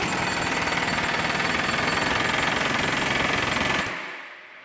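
An Ingersoll Rand 2235TiMAX air impact wrench, running on shop air above 90 PSI, hammers a fastener tight in one loud, rapid burst of impacts lasting nearly four seconds before cutting off, leaving a fading hiss.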